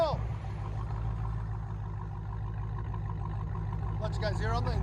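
Supercharged 6.2-liter Hemi V8 of a Dodge Challenger Hellcat idling with a steady, deep low rumble throughout, fairly constant in level, with a voice briefly heard near the end.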